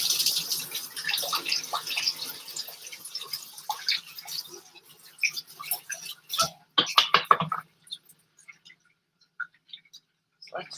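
A kitchen tap runs with a soft, steady hiss for a few seconds while something is rinsed during cooking. Scattered clinks and drips follow, all fairly quiet.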